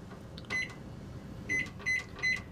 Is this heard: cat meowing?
no